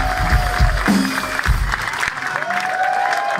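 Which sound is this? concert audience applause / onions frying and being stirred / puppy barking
concert audience applause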